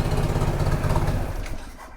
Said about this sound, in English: So the engine's running enough for a test drive.